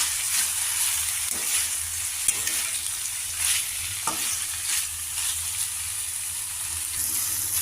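Ridge gourd pieces cook in a pan with a constant close sizzle. A spoon stirs them now and then, adding intermittent scraping and clacking strokes.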